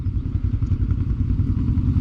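Engine of a Maverick off-road vehicle creeping slowly uphill, a steady low rumbling drone with a faint rattly clatter, close and continuous with no voices.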